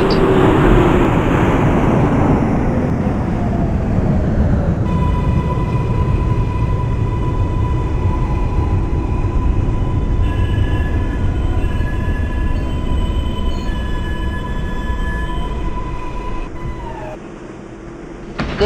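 Simulated R142A subway train on the 6 line in openBVE, running steadily with a loud continuous rumble and rail roar, joined partway by a sustained electric motor whine that holds and then fades as the train slows near the end.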